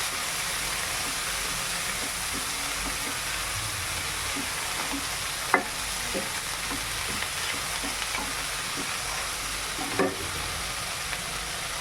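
Curry leaves sautéing in a pan for a curry-leaf chutney, a steady soft sizzle with occasional light stirring clinks and taps running throughout.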